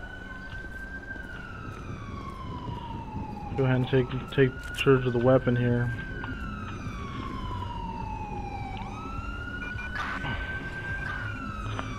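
Ambulance and police sirens wail and yelp as they arrive at a hit-and-run homicide scene in GTA LSPDFR, with long rising and falling sweeps throughout. Someone speaks briefly over the sirens.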